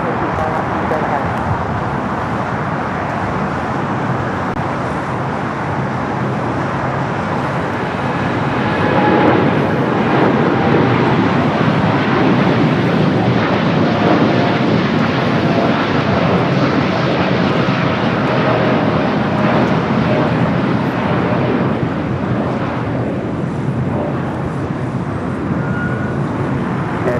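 A Philippine Airlines jet rolls down a runway at LAX, a broad continuous engine roar that swells slightly midway and holds steady, heard from a distance under faint traffic and radio chatter.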